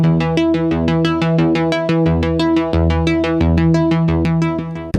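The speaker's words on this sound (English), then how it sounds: "the first stem/track is the synth arpeggiator, which is really like the core of this song" Synth arpeggiator stem from a song plays alone, a fast, steady stream of bright plucked synth notes cycling in a tight repeating pattern over a sustained low bass.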